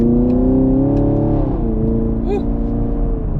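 A 2020 Chevrolet Camaro SS with the 2SS package, its V8 engine droning loudly and steadily up close, with a short rise and fall in pitch partway through and a faint whistle-like sweep near the end.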